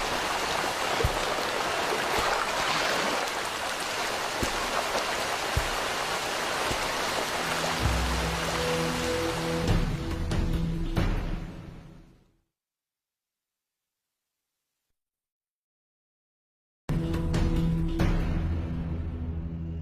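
A river rushes with a dense, steady roar for about twelve seconds, a lower droning tone creeps in, then the sound cuts to silence before the water noise returns.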